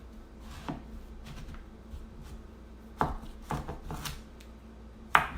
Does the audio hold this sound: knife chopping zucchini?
yes